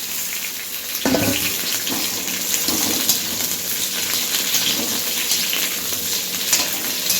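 Ginger, capsicum and tomato fry in a pan with a steady, close sizzling hiss, and a brief thump as the ingredients go in near the start.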